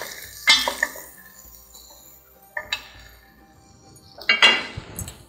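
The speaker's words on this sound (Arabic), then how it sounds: "شوح بس دي تشويحه بسيطه كده" Carrots being tossed and stirred in a pan, heard as a few sharp clinks and scrapes of a utensil against metal in three short bursts, the first near 0.5 seconds, one near 2.7 seconds and one near 4.3 seconds, with quiet gaps between.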